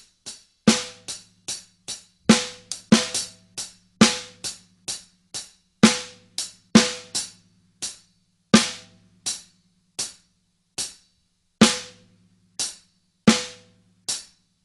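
A drum kit plays an offbeat pattern, the snare landing between hi-hat strokes, in crisp separate hits with short decays and a loose, sparse rhythm, close and alone.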